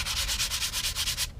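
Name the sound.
sanding filler on a Guillow P-47 model airplane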